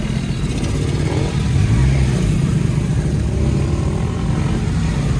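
A motorcycle passes close by on a road, its engine a steady loud drone with a low rumble that builds slightly and holds throughout, with wind and traffic noise around it.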